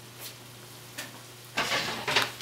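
Chicken tortilla soup being stirred in a pot on the stove, with a few soft scrapes and then a louder stretch of bubbling, sizzling stirring toward the end, close by with no talk.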